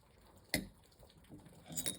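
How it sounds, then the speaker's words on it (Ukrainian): A single sharp metallic clink as a copper coin is placed on a metal spoon, followed a moment later by a couple of softer clinks of small metal pieces, in an otherwise quiet room. "кладемо нашу монету на ложку і опускаємо в нашу суміш"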